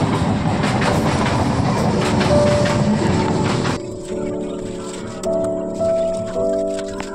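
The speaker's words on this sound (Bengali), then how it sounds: "তার দেখো ট্রেন ঢুকে গেছে বলে দাঁড়িয়ে গিয়েছিলাম।" A train pulls into a station with a loud, continuous rumble and rattling wheels, then eases to quieter running with a steady tonal hum as it slows.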